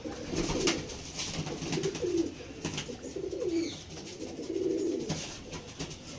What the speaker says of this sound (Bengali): মস্তান ব্রিডের পায়রা, অরিজিনাল আন্ধ্রা।